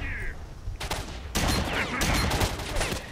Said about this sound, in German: Oh nein, die Waffe hat geknallt.